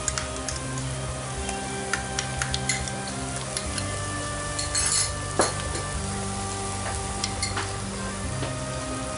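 Chopped onions sizzle and fry steadily in a pan for a Hyderabadi-style boti dish, a continuous close crackle with occasional light clinks of a spoon stirring, no voices.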